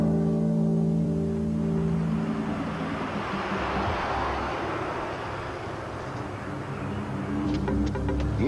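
A car engine revs and accelerates hard, the tone climbing as the car builds speed and roars past, loud and continuous for several seconds with no talking.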